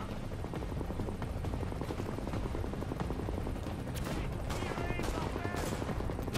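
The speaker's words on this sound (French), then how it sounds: "on va essayer de, voilà, de tirer en plusieurs fois" Bursts of automatic gunfire in the shooter game Tom Clancy's The Division, loud and close, firing steadily over dense battle noise.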